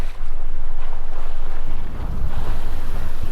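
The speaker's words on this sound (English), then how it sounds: "We're going about 6 knots and we've got about 7 knots of wind." Wind roaring across a sailboat under sail at about six knots in roughly seven knots of breeze, off the British Virgin Islands with a squall ahead; loud, continuous rushing wind buffeting the microphone, with water washing beneath.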